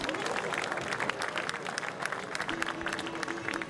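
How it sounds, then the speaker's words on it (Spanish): A crowd applauds steadily with dense, continuous clapping, while a faint tone sounds underneath toward the end. "Fuerte el aplauso para ellos."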